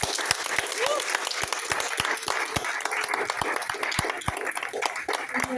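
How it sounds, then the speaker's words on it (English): An audience at a music industry community panel gives its guests warm, continuous applause, with crisp individual claps standing out from the steady crowd wash. "have a round of applause for our guests"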